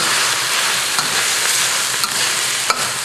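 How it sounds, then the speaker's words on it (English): Eel frying in a pan for a Vietnamese dish, a steady loud sizzle and hiss of hot oil with a few faint clicks and pops, no voices. "The eel's been cooking for about 3 minutes"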